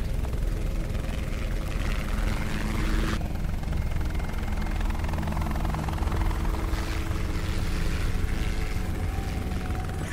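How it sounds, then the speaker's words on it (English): A helicopter in the video game Chained Together drones steadily with a loud, constant rotor and engine roar that holds unbroken throughout, with no voices over it. "Helicopter, helicopter. I am flying."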